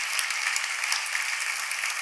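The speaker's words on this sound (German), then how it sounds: "Und der Applaus geht an alle, die wir da gerade gesehen haben." An audience applauds at a triathlon awards ceremony with steady, dense, bright clapping throughout, close and even in level.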